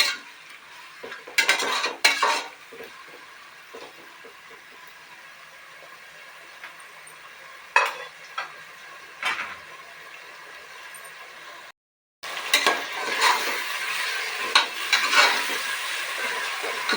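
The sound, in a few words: tomatoes added and stirred, frying in a pan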